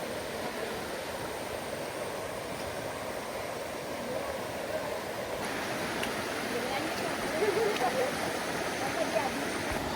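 Steady rushing water of the Chiling River near Kuala Kubu Bharu, Malaysia flows continuously, a broad hiss like a river current, with faint voices and rustling mixed in.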